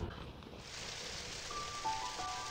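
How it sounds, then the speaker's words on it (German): Rain patters steadily on the roof of an Opel Corsa A mini-camper parked by the Weser, a dense, soft hiss of drops heard from inside, with a few faint tonal tinkles near the end. "Der Regen prasselt auf dem Dach"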